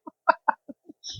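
A handful of short, clipped clucks in an uneven rhythm, fairly close, with brief silences between them and a slightly longer call at the end.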